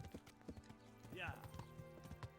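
Hooves clop at a walk in the game Kingdom Come: Deliverance, several soft, evenly spaced beats. A short vocal sound rises over them partway through.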